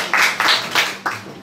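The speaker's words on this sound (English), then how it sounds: "Let's give another round of applause." Audience applause at a celebration for a new president, heard as a few loud, close bursts of clapping in a short uneven rhythm.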